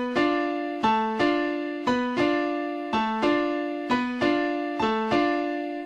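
Piano playing a syncopated merengue rhythm riff, repeated chord stabs with a bouncing bass line in a steady, lively pattern, clear and alone with no voices.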